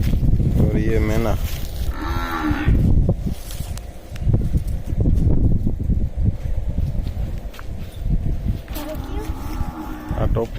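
A Jafarabadi buffalo moos several times, loud and close, with long, deep calls. Rustling and a farmyard murmur fill the gaps between them.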